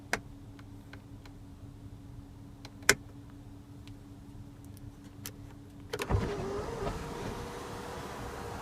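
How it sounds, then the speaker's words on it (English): Inside a 2015 Audi Q7 S Line, a few faint clicks and ticks sound in a quiet cabin before an electric motor starts, a steady whirring hum as the panoramic sunroof slides open. "to open the sunroof, you can just turn the knob all the way to open it fully"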